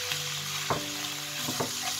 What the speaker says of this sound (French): Là, on va bien mélanger.